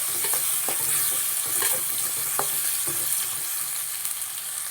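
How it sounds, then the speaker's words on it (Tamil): Tomatoes and carrots sauté in an oiled pan for potato poori masala, a constant sizzle with repeated stirring scrapes close up and no talking. "இதையும் சேர்த்து நம்ம நல்லா வதக்கி விட்டுக்கலாம்"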